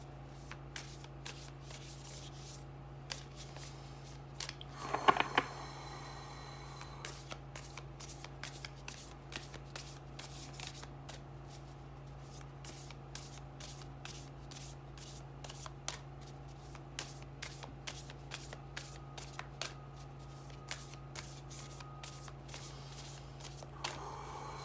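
Quiet card shuffling, soft repeated riffles and brushing flicks of a deck scattered throughout, with one louder burst of handling early on over a faint low hum.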